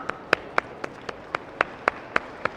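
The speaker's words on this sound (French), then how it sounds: "Ça demande un applaudissement quand même" Slow, evenly spaced claps, about ten sharp single strikes, ring out at a horse training demonstration in Angers in 2023, sounding more like one person clapping than a full crowd.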